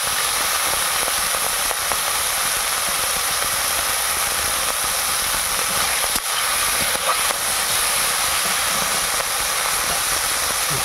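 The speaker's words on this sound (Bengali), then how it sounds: "দেখুন এখন চিংড়ি ভাজা হচ্ছে" Prawns with turmeric and salt fry in a pan over a wood-fired clay stove, giving a continuous loud hiss and sizzle with faint crackles throughout.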